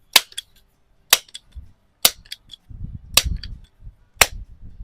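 A Rochester Precision pump air rifle fires five times at roughly one-second intervals outdoors at a 25-yard range, each shot a sharp close crack followed by faint clicks and handling noise.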